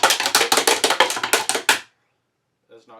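A drumstick strikes the rim of a Xymox practice pad in a quick run of about fifteen sharp, hard clicks, close and loud, then stops abruptly before a brief faint voice.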